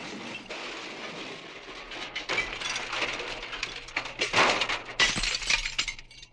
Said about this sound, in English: That would be a car crashing.